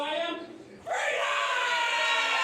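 Wrestling crowd at a CCW event roaring for Freedom Ramsey, a sustained swell of cheering and yelling that surges louder partway through and stays loud to the end.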